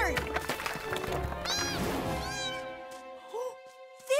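A cartoon kitten gives several high, rising meows with animated sound effects and music, and cartoon voices talk around the meows.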